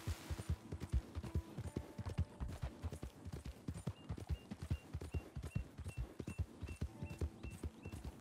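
A horse's hooves clip-clop steadily while it is ridden in Red Dead Online, an even, close trotting rhythm continuing throughout with faint background game sounds.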